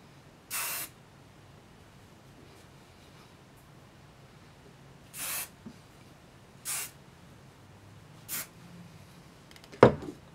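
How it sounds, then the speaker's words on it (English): Short bursts of hair spray from an aerosol can while styling short hair, four separate hisses spaced a few seconds apart, close and fairly loud against a quiet room, followed by a small clatter near the end. "I don't put a whole lot of spray"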